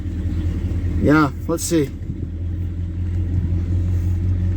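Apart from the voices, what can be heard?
1968 Ford XL engine running with new exhaust manifold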